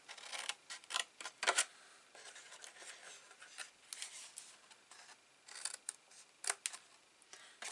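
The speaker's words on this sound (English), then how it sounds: "And then cut these in half" Scissors snip through paper in a run of short, crisp cuts with brief pauses between them, close and fairly quiet, as pieces are cut in half and mitred for a small box on a Christmas advent calendar.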